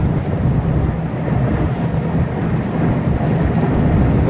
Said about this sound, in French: Il y a un vent de folie, c'est super chiant